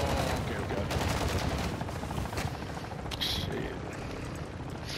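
Dense bursts of rapid automatic gunfire rattle through a combat game round, loud and continuous with aircraft-like rumble beneath, while players talk excitedly over it.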